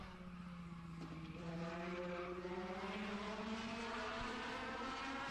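Race car at Madera Speedway before qualifying, its engine revving steadily with rising pitch as the tires are spun to build heat, heard faint and distant with no talk.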